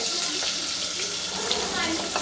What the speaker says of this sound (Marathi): आता आपण टाकूया कांदा दोन कांदे